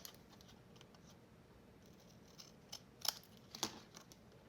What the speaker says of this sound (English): So let's cut our tag shape.